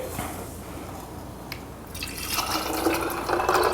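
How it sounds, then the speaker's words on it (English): Tomato juice is poured over ice for a cocktail, a soft liquid pour with faint drips that grows fuller and brighter as the glass fills, close up and quiet. "Poured over ice."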